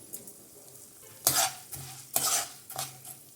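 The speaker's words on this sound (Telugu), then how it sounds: "ఇప్పుడు ఇదే ఆయిల్లో ఒక గుప్పుడు పచ్చిశనగపప్పు, ఒక గుప్పుడు మినపప్పు, వీటిని కూడా దూరగా ఫ్రై చేసుకోవాలి" A handful each of chana dal and urad dal frying in hot oil for gongura pachadi, a quiet sizzle punctuated by three sharp bursts of stirring and spatula scraping against the pan.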